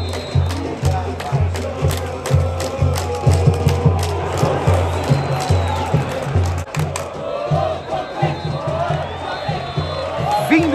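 Ponte Preta supporters fill a football stadium with loud, sustained crowd cheering and chanting, a steady roar with rhythmic low drumming running underneath throughout.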